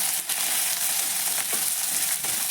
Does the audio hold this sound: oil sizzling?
yes